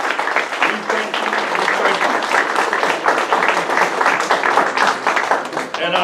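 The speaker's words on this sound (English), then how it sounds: "give them a nice round of applause" An audience applauds EMTs at a Blessing of the Badges ceremony, giving a sustained round of clapping that runs evenly for about six seconds.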